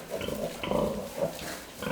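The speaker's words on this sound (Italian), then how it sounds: "Abbiamo deciso di allevare il maiale di razza sarda col pascolamento controllato." Sardinian breed pigs, raised on controlled pasture on a Sardinian farm, give repeated low grunts in a few bursts over a steady outdoor background, fairly close and moderately loud, with no talk.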